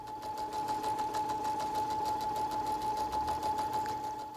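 A sewing machine runs steadily and close as it stitches a gathered costume skirt onto its waistband, giving a fast, even mechanical whir with a rapid needle rhythm and a constant motor hum throughout.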